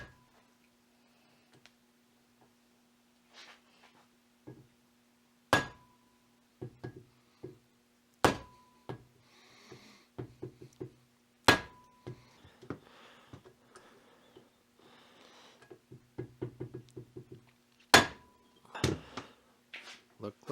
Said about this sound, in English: now I'm going to hit this bugger with a hammer